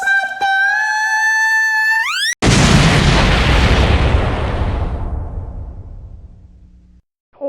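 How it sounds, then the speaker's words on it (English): A cartoon character named Scotty explodes: a high rising whine gives way to a loud, close boom that rumbles and slowly fades over several seconds. "Scotty exploded out of existence."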